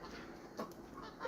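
A rooster gives a soft, short cluck or two over a low outdoor background, faint and brief.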